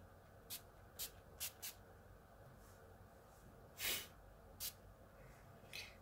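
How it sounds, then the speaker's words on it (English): Several short, soft bursts of dewy face setting spray hiss nearby, one longer spritz in the middle, over a quiet background hum. "I'm just gonna spray my face again with the dewy one"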